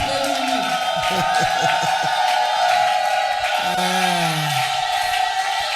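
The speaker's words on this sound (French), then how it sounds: "Avec les acclamations, nous recevons." A church congregation at a CONFELEA 2024 gathering cheers and acclaims, with a steady roar of crowd noise under whooping, ululating and rising voiced calls throughout.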